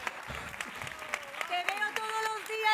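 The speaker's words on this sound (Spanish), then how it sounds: "Un fuerte aplauso para ella." An audience at an award gala applauds steadily under a presenter's voice, the clapping broad and continuous while someone speaks and a louder tonal voice rises toward the end.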